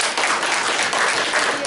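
Workshop participants in a management training session give Matt a short, full burst of close applause, dense and even throughout with no speech over it.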